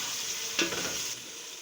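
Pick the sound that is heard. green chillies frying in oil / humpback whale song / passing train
green chillies frying in oil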